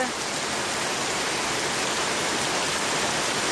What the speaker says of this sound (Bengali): এই যে পূর্ণমায়া দিন কি বৃষ্টি শুরু হয়েছে, মানে প্রচন্ড বৃষ্টি